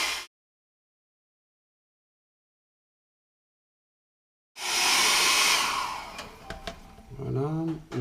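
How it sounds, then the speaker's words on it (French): A hair dryer blows across alcohol inks on Yupo paper, kicking in abruptly after a long silence with a loud, steady rushing whoosh that wavers slightly as it moves. "Le passage du sèche-cheveux."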